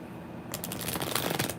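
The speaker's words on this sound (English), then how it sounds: "Let me shuffle these real good." A deck of tarot cards being shuffled close up, a soft rapid riffling flutter after a brief quiet start, continuing steadily for about a second with no talk.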